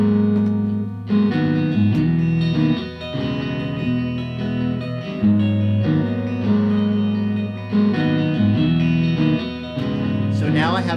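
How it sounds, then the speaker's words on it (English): Electric guitar looped through a looper pedal with an echo effect, layered repeating notes and sustained chords sounding closely and fairly loud, with echoing tails and a brief pitch sweep near the end. "Have a little bit of echo going on my sound, and I want to see how this kind of blends with the other two parts."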